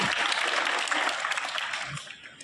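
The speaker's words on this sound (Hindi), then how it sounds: "जोरदार तालियों से अभिनंदन किया।" An audience at a school annual exam-results ceremony applauds with steady clapping that gradually fades, sustained and fairly close.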